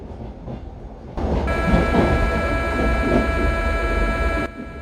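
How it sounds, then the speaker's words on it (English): Locomotive horn in the Indian Train Simulator video game blares as one sustained, loud tone for about three seconds over the low rumble of a moving train, then cuts off. "Is that the horn? Shall I press it?"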